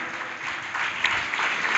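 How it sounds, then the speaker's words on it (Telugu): Steady applause from an audience at a Telugu Christian sermon, a broad even wash of clapping that swells slightly partway through. "గట్టిగా చప్పట్లు కొడదామా"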